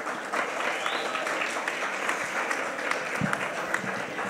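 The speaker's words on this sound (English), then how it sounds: "clap a little more for that" Enthusiastic applause from a crowd, steady and sustained clapping that stays strong for a few seconds with no talking over it.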